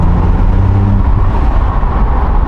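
A 2022 Ford Puma ST fitted with a cheap cat-back exhaust drones loudly and throatily under acceleration, a close, steady engine note heard from inside the car, with no talk.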